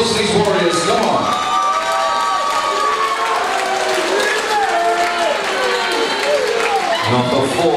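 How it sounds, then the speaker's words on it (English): Boxing crowd cheering and applauding after a Southern Area title bout, a loud continuous roar of shouts and whoops over clapping, with voices rising and falling throughout. "So a round of applause for these warriors"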